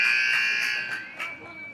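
An ice hockey rink buzzer sounds at the end of a period: a loud, sustained electronic tone that fades out, with a play-by-play commentator's voice running over it.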